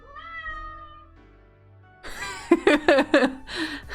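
A Minecraft cat meows a few times in quick succession, loud and close, after a quieter stretch of game tones and background sound.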